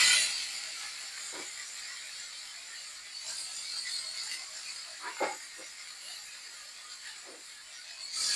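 Banana flower hits hot spiced oil for a Bengali mochar ghonto, giving a steady, fine hissing sizzle with a few soft clicks and stirring knocks.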